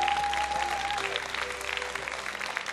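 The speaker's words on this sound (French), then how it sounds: "Vous pouvez les applaudir une nouvelle fois." Audience applause for the jury at a university pleading contest semi-final, a dense sustained clapping from a full room with a faint tone under it, with no talk.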